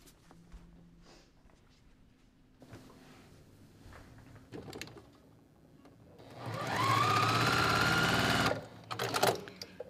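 A sewing machine stitches Ohio Star quilt block pieces together in one sustained whirring run of rapid needle strokes lasting a couple of seconds, after quieter handling sounds and followed by a few clicks.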